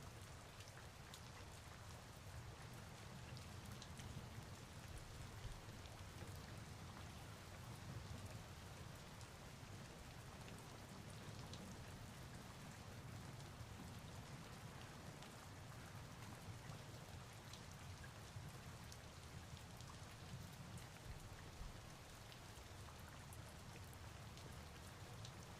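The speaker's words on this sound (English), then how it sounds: "I do love the storm noises." Steady storm rain from the game Hytale hisses evenly throughout, a constant dense patter of raindrops with no breaks or talking.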